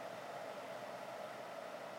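Small drill bit boring into a thin plastic model piece, a steady high whirring hum that holds even and faint for two seconds, with nobody talking.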